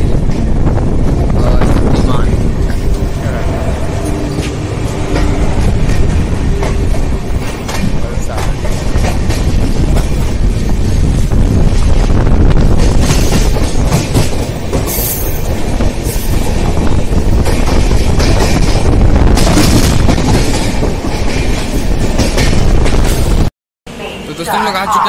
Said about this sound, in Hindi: हम लोग फाइनली वलसाड डिपार्ट कर चुके हैं और ट्रेन भी अपनी रफ्तार पकड़ रही है धीरे धीरे